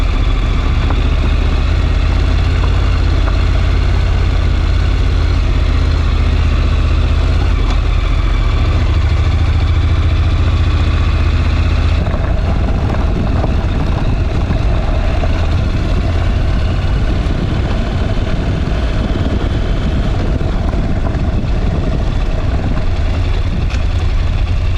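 Honda NC750X motorcycle engine while riding on the road, a loud, steady low engine drone mixed with constant wind rush throughout, with no speech.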